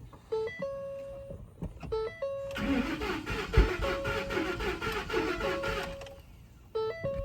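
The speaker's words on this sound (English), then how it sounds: "you hear that little backfire?" A 2010 Ford F-150 pickup engine with 330,000 miles cranks with a mechanical whir over a few seconds, roughly catching with a small backfire before quieting, with short chiming tones at the start and end.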